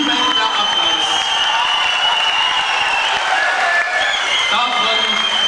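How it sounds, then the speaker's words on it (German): Loud, sustained applause and cheering from a crowd at a 1996 German carnival-style beach party, a continuous wash of clapping and shouts with a voice audible beneath it. "Das ist Jubel der Applaus."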